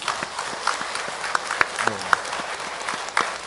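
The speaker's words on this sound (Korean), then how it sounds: "이분들을 위해서 큰 박수 쳐주세요." A church congregation at a Catholic Mass applauds with a scattered, uneven round of claps. Individual sharp claps stand out within the lighter patter, and a brief voice comes through midway.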